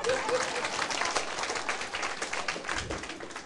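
Brief audience applause from a seated lecture class, a dense patter of many hands clapping at moderate distance, fading slightly toward the end.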